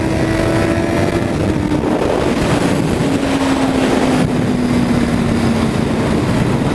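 A loud motorcycle engine drones steadily up close, its pitch sliding slowly downward, with wind buffeting the microphone throughout.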